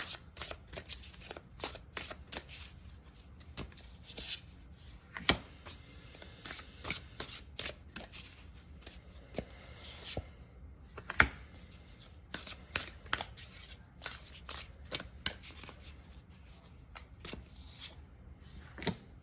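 An oracle card deck, Shaman's Dream Oracle, being shuffled by hand: soft riffling and flicking with repeated sharp card snaps in uneven bursts, close and quiet, with no talking.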